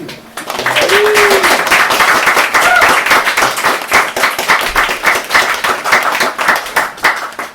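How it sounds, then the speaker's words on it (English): Open mic night crowd in a Limerick bar applauding, loud, close hand clapping building quickly and holding steady before thinning toward the end, with a brief voice or whistle early on. "let's give a round of applause in advance to everyone who is about to come up"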